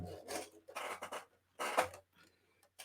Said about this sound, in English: And I'm just going to trim.